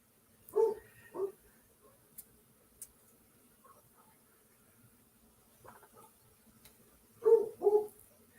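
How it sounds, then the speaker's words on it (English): A dog barks outdoors at a distance, two short pairs of barks separated by a long lull with faint ambient noise in between. "But now they're barking out there."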